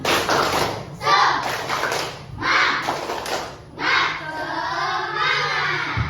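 Schoolchildren in a classroom perform the rhythmic 'tepuk semangat' clap in sharp bursts of coordinated claps separated by brief pauses, with a teacher's voice and children's shouts mixed in.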